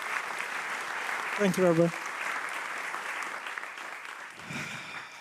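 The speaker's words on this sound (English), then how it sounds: "please giving him a round of applause" An audience at a storytelling talk event applauds steadily from start to finish with an even wash of clapping. Someone briefly speaks near the mic partway through.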